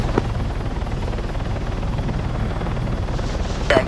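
Transport helicopter approaching in the military game Arma: a steady, loud rotor chop and turbine drone filling the whole stretch, swelling slightly near the end.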